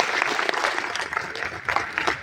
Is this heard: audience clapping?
yes